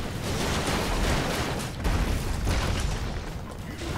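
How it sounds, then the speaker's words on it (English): Explosions in the video game Broforce: a dense, continuous barrage of booms and bursts, loud and steady throughout with no voices. "Explosions."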